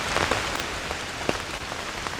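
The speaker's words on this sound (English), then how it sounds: "It is now officially absolutely tipping down with rain." Heavy rain pours down outdoors during an amateur radio antenna build, a dense, steady hiss of drops with occasional louder splats, close and continuous with no talking.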